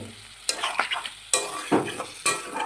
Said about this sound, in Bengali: এইবার আমি এতে দিয়ে দেবো জল, পরিমাণ মতো জল দিয়ে দেবো এতে